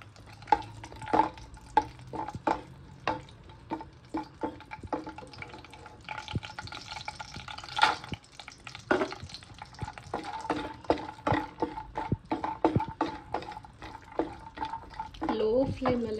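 Chopped almonds, cashews and raisins frying on a low flame and being stirred in a pan, with a scatter of small clicks and scraping taps over a faint sizzle while a voice talks at times.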